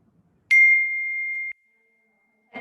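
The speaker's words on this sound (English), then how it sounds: "Text messages, so they stop interrupting your Shavasana." A single bright text-message notification ding rings out clearly in a quiet room during a yoga class, holding a steady tone for about a second before cutting off.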